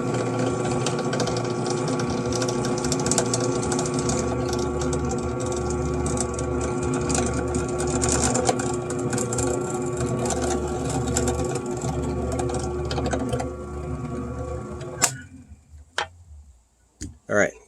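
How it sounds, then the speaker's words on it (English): A drill boring a hole through a workpiece held in a shop-built drilling jig, a steady close whirring drone that runs for most of the time and then cuts off, followed by a few clunks. "So let's go ahead and put the second hole in."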